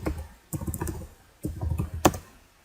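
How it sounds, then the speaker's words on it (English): Bursts of quick clicking keystrokes on a computer keyboard as a headline is typed, close and distinct, in three short runs with brief pauses between. "Just gonna quickly type it down here."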